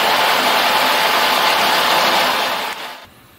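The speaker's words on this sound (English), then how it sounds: "if we push the lever down, the machine will spin on reverse direction." A turning lathe machine hums steadily while spinning in reverse, its loud continuous motor drone holding even before winding down sharply near the end.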